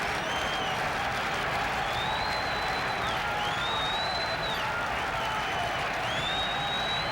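Large crowd at a 1978 Yankees baseball game in Yankee Stadium, a steady roar of clapping and cheering with a two-strike count on the hitter, continuous and distant, with whistles rising over the din.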